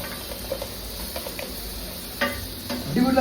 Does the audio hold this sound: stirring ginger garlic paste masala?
yes